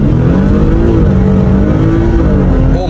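Stage 3+ tuned Audi SQ5 launching hard from a standstill, a loud, close engine roar climbing in pitch as it accelerates steadily for nearly three seconds.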